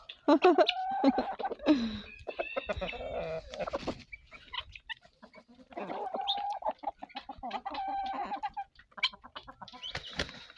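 Chickens cluck and cackle busily close by, a continuous chatter of several birds with gargling, throaty calls.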